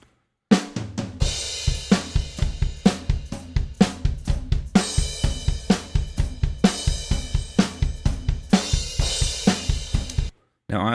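A full drum-kit mix of snare, kick and overhead microphones plays a steady, punchy rock beat with crisp cymbal wash, loud and continuous with no voices, breaking off briefly just before the end.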